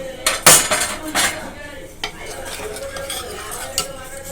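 A spoon clinks and scrapes against a pot while paneer curry is ladled into a bowl, with sharp metallic taps at the start and softer scraping after.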